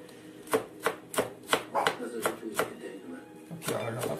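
A knife finely chopping onion on a cutting board, about a dozen crisp, evenly spaced strikes close by, slowing briefly before a quicker flurry at the end.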